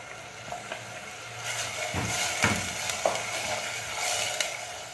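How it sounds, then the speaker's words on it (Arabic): Chopped onions sizzle in a pan while being softened for an Eid al-Adha dish, a steady close hiss punctuated by a few soft stirring scrapes and clinks. "نخلي البصل تاعي يتقلي لي تقريبا مده 3 دقائق يذبل لي شويه"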